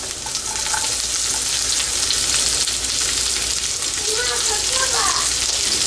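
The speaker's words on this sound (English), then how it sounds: "First of all I am going to fry the onion." Onion frying in hot sesame oil in a pan, a steady close crackling sizzle that runs throughout, with a few faint higher pops toward the end.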